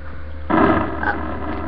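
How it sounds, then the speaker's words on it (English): A rocket launching in the Galacticraft mod for Minecraft: a low hum gives way to a sudden loud, broad rushing roar that holds steady to the end. "as you guys can hear, that's the sound of the rocket launching"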